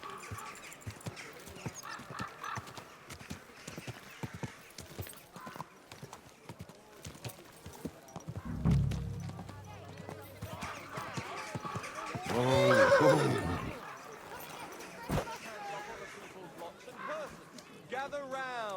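In Kingdom Come: Deliverance, hooves clop steadily while a horse lets out a loud, drawn-out whinny partway through; short bursts of other game sounds surround it.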